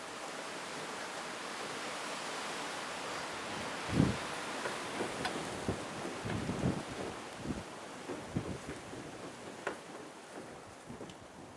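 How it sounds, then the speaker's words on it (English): Gusty wind blows across an outdoor cooking spot, a soft continuous rush with scattered low thumps and buffeting bursts against the microphone, fairly faint overall and no voices. "It's bare windy today."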